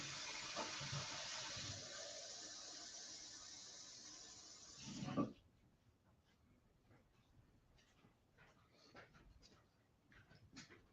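Water gushes steadily from a kitchen tap for about five seconds, fairly loud and close, then cuts off abruptly, leaving faint clinks and small handling noises.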